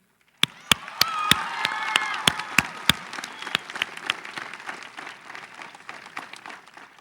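A graduation audience at the 2012 RHS ceremony claps for Miss Sanders, a steady wash of applause with a few sharp nearby claps standing out and a murmur of voices underneath, slowly thinning toward the end.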